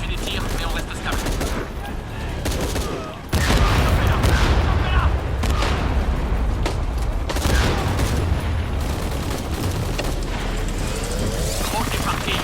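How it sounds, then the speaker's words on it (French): Sustained gunfire and explosions in the video game Shadow of the Tomb Raider, dense bursts of shots with booms, loud and continuous after a brief lull, with voices talking over the combat. "On essuie les tirs, mais on reste stable."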